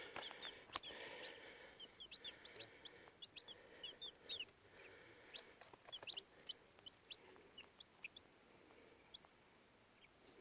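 Chickens clucking and peeping softly in short scattered bursts, close by and fairly quiet, with no talk.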